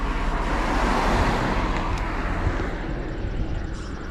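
A car passes on a road near a parked van, a steady broadband rush of tire and engine noise swelling and easing over a few seconds with no talk.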